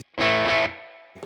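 A single electric guitar chord through a Tube Drive distortion pedal with low-end boost rings out briefly and decays, with a thick overdriven tone and another note starting at the end.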